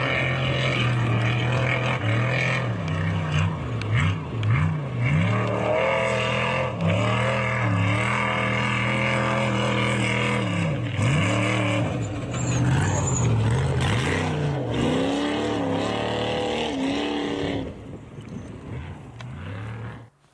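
Off-road race trucks with LS3 engines roar loudly and continuously at a SCORE Baja 500 race, with engine pitch repeatedly swooping up and down as the trucks rev and shift, fading slightly near the end.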